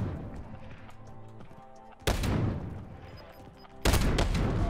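ZRG 20mm sniper rifle gunfire in Call of Duty Warzone, two loud booming shots about two seconds apart, each with a long rumbling tail, over quieter game background.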